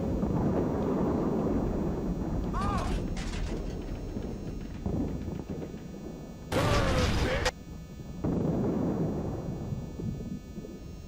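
Tank guns firing in World of Tanks, a few heavy booming shots with rumbling tails, one loud blast near the middle, over a constant engine drone.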